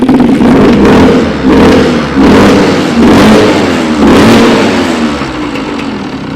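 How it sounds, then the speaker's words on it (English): A Suzuki RM85 two-stroke dirt bike engine is running loud and close, revving repeatedly in rising and falling bursts with no talking over it. "let's get a little startup going for you."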